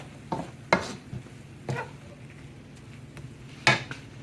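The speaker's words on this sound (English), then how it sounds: "Stir that around." Spices, sugar and Parmesan stirred in a pan, with a few scraping strokes and soft clinks over a low sizzle, close by, no voices.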